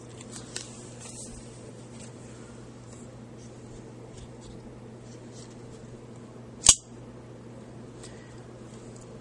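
A Spyderco Pacific Salt H-1 serrated folding knife with an FRN handle snaps its blade into lockup in a single sharp, close click, standing out against a quiet room hum.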